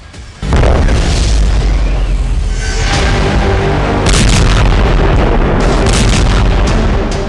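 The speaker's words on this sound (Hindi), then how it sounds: "यमन की हाइपरसोनिक मिसाइल तेल अवीव पर ऐसी गिरी कि धमाका व्हाइट हाउस में भी सुना गया" A sudden loud missile explosion boom erupts and rolls into a sustained roaring rumble, dense and close, continuing for several seconds without speech.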